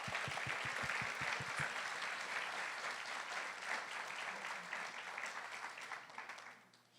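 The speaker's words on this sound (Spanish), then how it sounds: "Un aplauso para ellos, por favor." A church congregation applauds new musicians, dense sustained clapping with a few rhythmic low thumps at the start, then a long even round that slowly fades toward the end.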